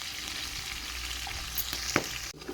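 Mint and coriander leaves fry in a pan over a wood-fire stove for biriyani, giving a steady close sizzle with a few stirring clatters and a brief sharp knock near the end.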